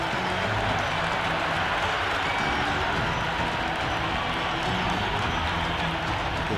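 A stadium crowd in Cricket 26 roars and applauds after a boundary hit in a PSL match between Islamabad United and Multan Sultan, a dense, sustained wash of cheering and clapping with a commentator's voice faintly underneath.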